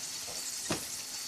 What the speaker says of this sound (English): You can see these are sizzling real well here